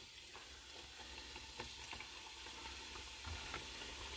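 Mickey Mouse–shaped snacks fry in hot grease, two at a time, giving a steady, moderately loud crackling sizzle with scattered pops throughout and no talking.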